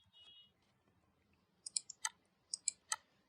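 Mouse clicks while working in the Tinkercad Circuits simulator: about seven crisp, close clicks in quick, uneven succession after a near-silent pause.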